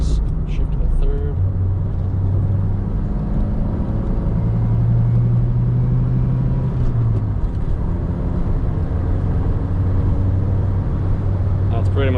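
A 1984 Pontiac Fiero with a manual gearbox roars steadily through a turn, its engine droning loud and close with shifting pitch as it brakes and changes down to third.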